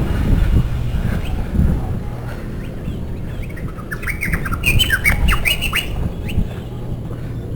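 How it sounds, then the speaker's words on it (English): Small birds on a seaside esplanade squawk and chirp in bursts of repeated sharp calls, fairly close, over a steady outdoor background of wind and traffic. "Noisy little birds."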